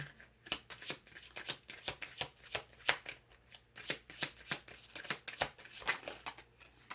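Tarot cards being shuffled by hand, a quick run of crisp riffling snaps and soft flutters in uneven bursts, close and fairly quiet, with no talking.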